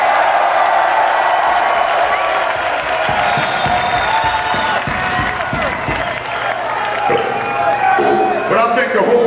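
Concert crowd at a 1997 show in Philadelphia applauding and cheering for the opening band, a loud sustained roar of clapping and shouts with voices mixed in throughout.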